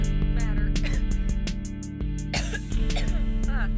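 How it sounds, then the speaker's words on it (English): A person coughs several times in quick, harsh bursts close to the microphone, over steady background music. "Don't mean to cough in your ear like that."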